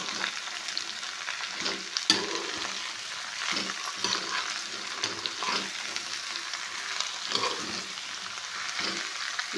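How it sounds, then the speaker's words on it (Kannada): Ridge gourd pieces stir-fried in oil, with a steady sizzle and repeated scraping stirs in a rough rhythm, fairly close and continuous, with no one talking. "ಬರೀ ಎಣ್ಣೆ ಒಳಗೇನೆ ತಿರುವಾಡಮ್ಮ ಇದನ್ನು"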